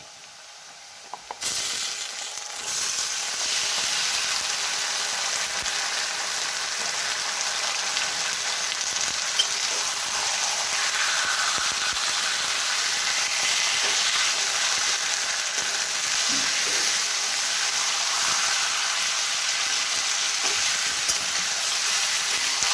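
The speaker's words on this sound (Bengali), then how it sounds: "এবার দিয়ে দিচ্ছি চিকেনটা" Marinated chicken drops into a hot pan, starting a loud, continuous hiss and sizzle that holds steady for the rest of the clip, close up with no talk.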